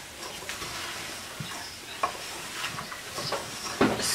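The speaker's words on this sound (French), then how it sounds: "On va remuer. Surtout remuer." Caramel being stirred in a pan, with soft scraping strokes and a faint sizzle, plus a few sharper clinks near the end; no talking.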